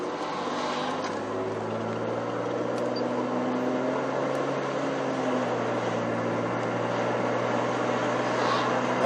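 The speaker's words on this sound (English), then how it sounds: "It drones a lot inside the car." Steady low engine drone of a 2007 Ford Taurus SE heard from inside the cabin while driving, a constant hum with road noise filling the whole stretch and no talking.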